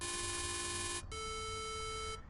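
A sustained, buzzy synthesizer tone from Ableton Live 9's Operator with a user-set waveform and a low primary partial, rich in overtones, holds, cuts briefly, then resumes at a slightly different timbre, quiet and steady.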